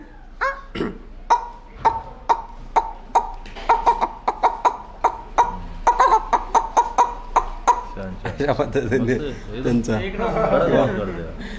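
Someone imitates a hen with a quick run of short, sharp clucks in a steady rhythm. Rougher voice sounds take over near the end.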